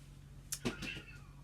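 A cat gives a couple of short, faint meows close by in a quiet indoor room, with a low background hum.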